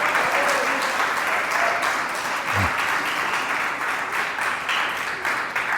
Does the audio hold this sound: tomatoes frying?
no